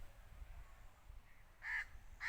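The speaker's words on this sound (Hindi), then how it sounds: "जिसके ऊपर कौवे बैठे हैं और क्वां क्वां कर रहे हैं जी।" Crows perched in a tree beside a garlic field near a water canal, giving two or three harsh caws toward the end over quiet outdoor rumble; the calls are moderately close and stand alone without talk.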